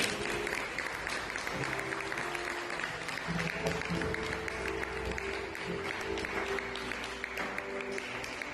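A church congregation applauding the Lord in sustained, dense clapping that continues evenly throughout, with faint voices and music underneath.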